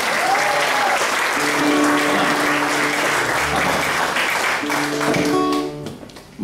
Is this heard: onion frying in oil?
no